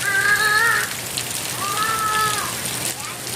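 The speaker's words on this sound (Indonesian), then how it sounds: "Mandi hujan." Rain falls steadily on surfaces while a child bathes outdoors in it, a constant hiss running throughout, with a voice rising over it in two short bursts.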